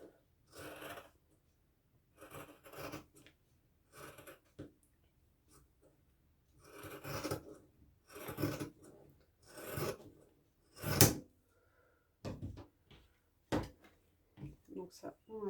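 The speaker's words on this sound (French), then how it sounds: "avec mon ciseau tissu, je vais venir découper mon patron" Fabric scissors cut out a paper sewing pattern for a hand-sewn turban, making repeated close, crinkly snipping and rustling strokes in irregular bursts with quiet pauses between.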